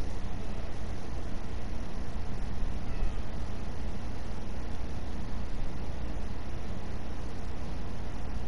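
A giant cat creature in the Smite video game purrs as a steady, continuous low rumble that runs unbroken at even loudness across the whole stretch, with no talk over it.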